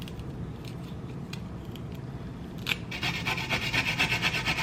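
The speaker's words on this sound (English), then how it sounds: "I'm gonna peel this ginger." A small thumb of ginger is peeled, a steady close rasping scrape that grows louder and more rhythmic partway through, heard alone without talk.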